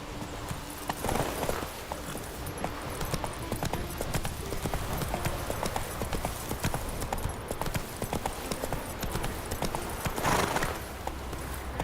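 Roach, a horse in The Witcher 3, gallops in a steady rapid clip-clop of hooves that runs close and fairly loud throughout, with a brief whinny and faint game ambience.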